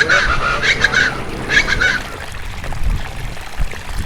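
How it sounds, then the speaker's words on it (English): Chachalacas call loudly and raucously, chattering in overlapping bursts nearby at the National Butterfly Center, with a busy outdoor background that continues after the calls die down. "Chattering chachalacas."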